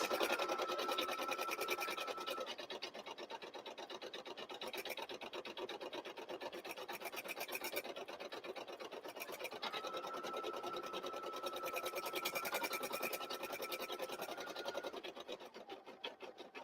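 A sewing machine stitches fabric steadily and continuously for the whole stretch, a close, even mechanical hum with no talking.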